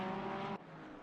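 Race car engine in a sim racing game at the Kyalami circuit, a loud sustained engine drone that cuts off abruptly midway, leaving a quieter lower hum.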